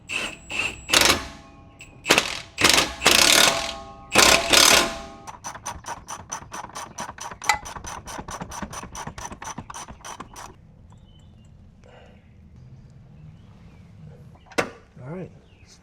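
A ratchet tightens the rear lower control arm bracket bolts on a 2005-2010 Ford Mustang, first in a few loud, slow clicking bursts, then a rapid, even run of close ratchet clicks that fades into quiet with one last sharp knock.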